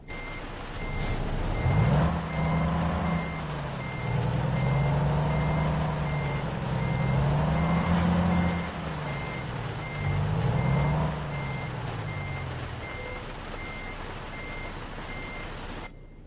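Truck reversing beeps in American Truck Simulator, a steady evenly spaced electronic beep running throughout beside the low droning engine of the truck, whose pitch rises and falls as it maneuvers, then settles to an idle.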